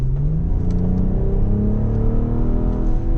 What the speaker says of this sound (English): In sport mode, it definitely gets more throatier. Definitely has a distinctive throaty sound to the car.